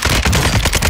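A loud close burst of rapid automatic gunfire during a video game shootout, a single continuous rattle of shots with no talk over it.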